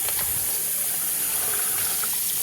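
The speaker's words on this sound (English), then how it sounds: "now we're going to rinse this down. I'm going to rinse all of" Tap water runs steadily while boneless skinless chicken breast is rinsed in a sink, a constant close hiss and splash with no break.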